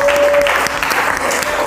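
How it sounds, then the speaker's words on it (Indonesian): Brief burst of classroom clapping for two students, fairly close and lively, with a faint tone running under part of it. "Tapi tepuk tangan untuk kalian berdua"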